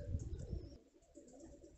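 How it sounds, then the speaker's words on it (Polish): Pigeons coo at a racing pigeon loft, soft low throaty calls close by with faint chirps and background hum. "zameldował się na gołębniku gołąb, który zgubił się wczoraj"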